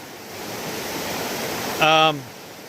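Steady broadband rush of creek water flowing before rain, continuous and moderately close, with a brief loud harmonic tone near the end that sounds like a voice or call cutting over the water.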